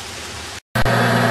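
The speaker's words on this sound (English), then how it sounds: "Oh, it's pouring the crap off out here. Oh man, it's raining." Heavy rain pours outside in a loud, dense hiss, cut by a sudden silent gap before resuming even louder.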